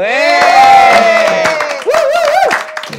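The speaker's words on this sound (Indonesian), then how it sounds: "Ya boleh tepuk tangan untuk para pemain dan sutradara cek toko sebelah kedua." A studio audience at a talk show with the cast and director of the film Cek Toko Sebelah 2 cheers with loud, sustained rising and falling whoops and yells. Only light clapping sits underneath.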